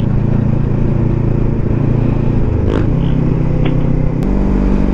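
A motorcycle carrying a passenger runs steadily at speed, with a constant engine drone, wind rush and a gear shift around the midpoint, plus faint rattles.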